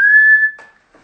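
One loud, piercing whistle made with two fingers in the mouth, held steady for about half a second and then cut off, followed by faint rustling.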